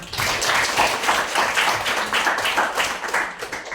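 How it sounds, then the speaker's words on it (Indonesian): Clapping after a poetry reading in an Indonesian language-education class, a modest, fairly quiet round of hand claps with uneven rhythm, heard close and without speech. "Tepuk tangan."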